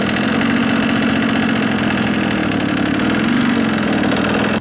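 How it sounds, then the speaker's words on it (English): Manual motorbike in first gear with the clutch being slowly let out under steady throttle, a loud close engine hum holding an even rhythmic chug throughout, alone with no talk. "We're in gear 1. Steady throttle and very slowly release the clutch."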